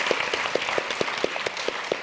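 Rhythmic audience clapping at a pay equality roundtable discussion, evenly spaced claps in a steady beat over a background of scattered applause.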